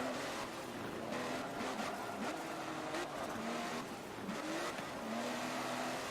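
A race car in Forza Motorsport 7 holds a steady, droning engine note with short pitch dips and climbs at each gear shift, running continuously at even loudness.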